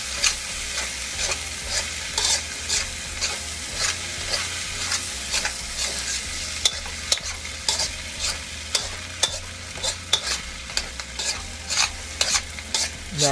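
Chicken fried rice with sriracha being stirred in a hot pan, a close, steady scraping and tossing rhythm over a soft continuous sizzle, with no talking.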